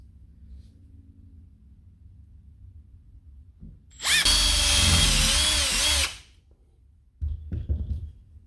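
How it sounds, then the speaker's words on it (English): A power drill bores a hole through an aluminium bracket for a catch can install, one loud sustained burst of about two seconds with a whining, shifting pitch, then a short quieter rattle afterward; no talking. "so I've drilled a hole, angled it."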